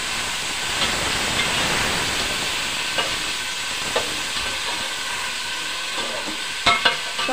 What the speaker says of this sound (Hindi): अब इसमें आलू डालें, ये भी साथ साथ फ्राई हो जाएंगे अच्छे से।